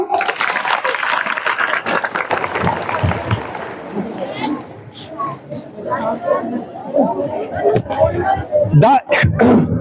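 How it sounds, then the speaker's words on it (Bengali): High school students in a classroom applaud with a dense burst of clapping, which gives way to scattered claps, children's chatter and movement. "একবার হাততালি দাও"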